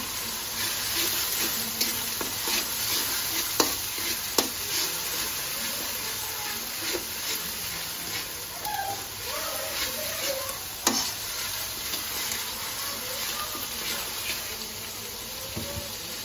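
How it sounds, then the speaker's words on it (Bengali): Onions sizzle steadily in a pan while a spoon scrapes and stirs them, with scattered clicks and knocks over the continuous close frying hiss. "পেঁয়াজটা একটু ভাজা ভাজা হয়ে গেছে"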